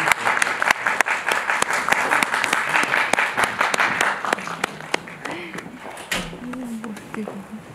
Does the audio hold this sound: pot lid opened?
no